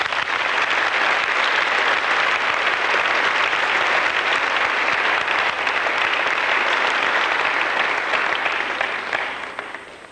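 Loud, dense audience applause at a spiritual gathering for the singers, sustained and even for about ten seconds before easing off slightly at the end.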